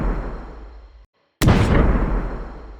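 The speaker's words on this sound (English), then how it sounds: "Then we have the actual cast itself, which I'm calling Impact Explosion." A designed impact explosion cast sound effect for a Crimson Desert video game redesign, a rumbling burst, then a brief dead silence before a loud, sharp explosive blast with a heavy low boom decaying behind it.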